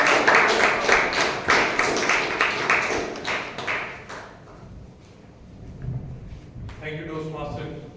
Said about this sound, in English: with a huge round of applause, let's welcome Toastmaster Ankit